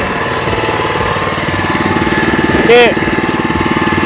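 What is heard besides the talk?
grass cutter mower engine running in slower gear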